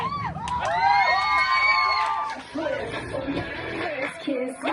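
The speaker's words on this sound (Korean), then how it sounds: "무대에 올라가기 직전 치어탑팀 모두 모여 파이팅을 크게 외친다" A university cheerleading team gathers just before going on stage and shouts a loud, drawn-out fighting cheer together, many voices rising in unison, then breaking into excited chatter and laughter.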